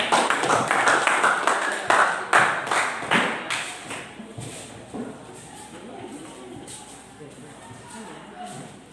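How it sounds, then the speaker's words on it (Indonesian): Classroom audience clapping for a student group about to present, a short round of scattered hand claps and taps that fades quickly into quieter room noise with some shuffling and low voices. "kita kasih tepuk tangan dulu untuk kelompok 2"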